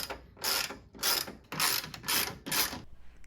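A screw being backed out of the front grille of a Toyota FJ Cruiser, heard as five close, evenly spaced bursts of ratcheting clicks from a hand tool, with no talking.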